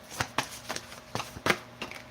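Tarot cards shuffled by hand at a table, a series of soft papery riffles and slaps arriving in uneven bursts, close and fairly quiet with no voices.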